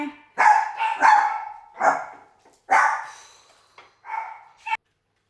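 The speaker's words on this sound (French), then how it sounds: "J'ai mes deux louloutes qui ont aboyé pour rien en plus" Two small pet dogs bark indoors in a series of five or six sharp, close barks and yips with short pauses between them, ending abruptly, no talk over them.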